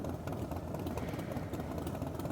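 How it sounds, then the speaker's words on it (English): Harley-Davidson motorcycle engines idle together before a Harley Owners Group ride from Auckland, giving a continuous low rumbling drone with a throbbing pulse and no talk. "signal the all clear that everyone's engine's up and ready to go."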